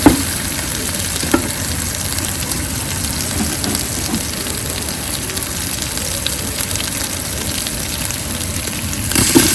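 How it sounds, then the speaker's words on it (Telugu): Tomatoes and green chillies frying in hot oil after ginger-garlic paste in a pan, a loud continuous close sizzle with occasional spoon scrapes and no talking. "ఇప్పుడు మనము టమాటాలు పచ్చిమిరపకాయలు వేసేసుకున్నాము"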